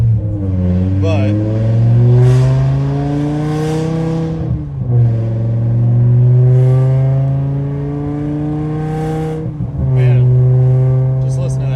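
A BMW E60 M5 with a straight-piped S85 V10 exhaust accelerates through gears, its loud engine tone rising in repeated sweeps with short dips at each shift, heard from inside the car.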